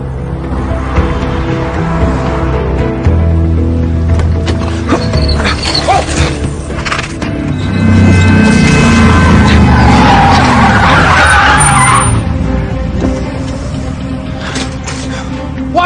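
A car skids with squealing tires, nearly running over a cyclist. The screech builds into a loud, sustained skid midway and trails off, with engine rumble and no clear talk.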